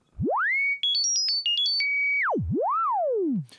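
A pure sine tone from a Sequential Take 5 synthesizer's self-oscillating low-pass filter sweeps up, steps through a quick series of pitches, then dives low and swoops back up before falling away, loud and clean.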